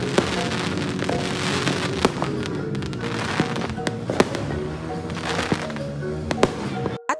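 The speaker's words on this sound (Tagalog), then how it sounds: "mas prefer namin ang manood na lang ng mga fireworks na nakikita namin kaysa kami ang magpaputok" New Year's Eve fireworks bang repeatedly over a continuous crackling, hissing backdrop, with sharp louder pops scattered irregularly throughout, fairly close.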